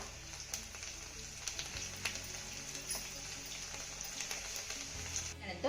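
Finely chopped garlic sautés in oil in a kadhai, frying toward light gold. A faint, steady sizzling hiss runs throughout, with soft scattered ticks from stirring.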